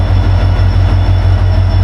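A train stands at a station in Purulia shortly before departure, with a loud steady engine hum and a regular low pulsing throb, no voices.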